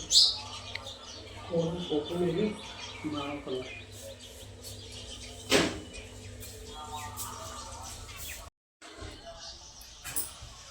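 House sparrows chirp in short, scattered bursts against a quiet indoor background, with a sharp knock and faint household noises in between.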